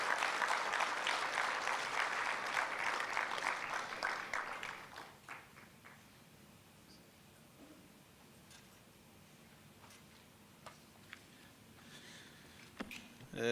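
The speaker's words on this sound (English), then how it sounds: "Let's give him a huge round of applause." Conference audience applause breaks out loud and dense at first, then thins over several seconds into scattered claps and quiet room noise.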